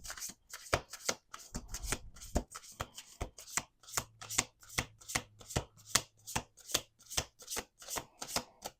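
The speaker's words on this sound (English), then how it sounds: "We're going to do 2 more shuffles." Tarot cards being shuffled in a steady run of crisp, rapid flicks and taps, close up, with no voices.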